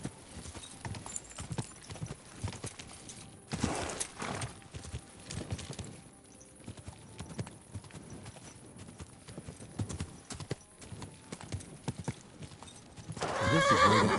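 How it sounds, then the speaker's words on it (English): Hooves clip-clop along at an uneven pace in a video game, with occasional whinnies and snorts, ending in a louder, rising horse neigh; no talking. "This is where the horse led me."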